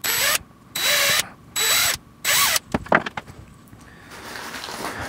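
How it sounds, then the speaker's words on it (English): Power drill pre-drilling holes in a bike chain pedal: four loud, steady whirring bursts with short pauses, followed by rattling clatter and a fading mechanical hum, close up. "That's the only reason I'm going to pre-mark and pre-drill these."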